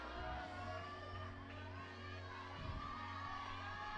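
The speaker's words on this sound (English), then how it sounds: "He's getting plenty of encouragement from the crowd." Crowd at a youth world championship climbing final in Innsbruck cheers and shouts encouragement to a climber, a steady broad roar with scattered whoops over a low constant hum.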